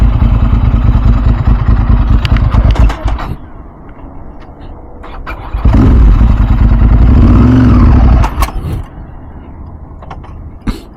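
A Ducati 996 SPS motorcycle accelerates hard through the gears, its engine loud and close with a rising roar, a dip to a quieter stretch, then another strong surge before easing off.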